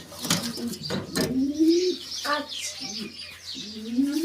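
Pigeons coo in rising, throaty calls close by, a few separate phrases with soft rustling and a brief flutter between them.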